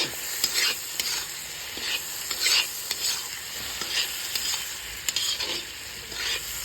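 Pork sizzles steadily in a pan while a utensil scrapes and stirs it, with soft repeated stirring strokes over a continuous frying hiss.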